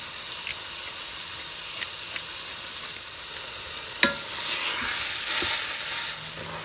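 Ground beef seasoned with salt and pepper browns in a pan, giving a soft continuous sizzle. A few sharp clicks and a louder scrape of stirring come partway through, and the frying swells toward the end.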